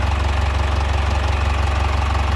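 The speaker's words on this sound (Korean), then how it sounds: "엔진 소리도 상당히 조용한 화물차라고 할 수 있습니다" The diesel engine of a Hyundai Mighty 3.5-ton truck idles steadily up close, a low rhythmic rumble with faint knocking and no voices.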